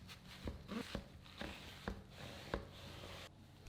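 A knife cuts a watermelon into long wedges on a board, giving a few faint, irregular chopping and slicing knocks with soft rubbing between them, close but quiet.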